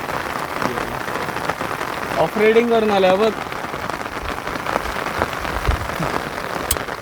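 Steady rain patters across an open farm field in the Konkan during monsoon, a constant wash of drops with people talking over it.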